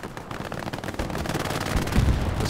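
Artillery shells pound a position in a World War II online shooter match, a dense barrage of booming impacts and rapid gunfire cracks that builds louder and heavier toward the end, with no talk over it.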